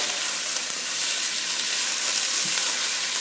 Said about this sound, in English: we want to cook it until all the ground meat turns white